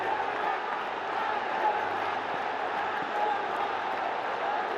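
Crowd at a cricket stadium during a qualifier match, a dense, even roar of cheering and shouting carrying on for about five seconds at a steady level, distant and unbroken.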